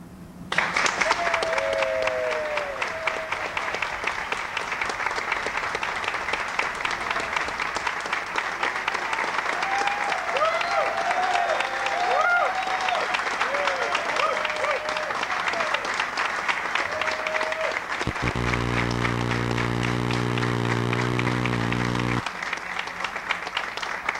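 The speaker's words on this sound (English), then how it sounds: "Let's have one more round of applause" Sustained applause fills a convention hall as a Log Cabin Republicans audience in San Diego, 1996, claps steadily and loudly throughout, with a brief low tonal sound near the end.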